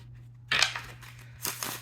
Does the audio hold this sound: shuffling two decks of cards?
yes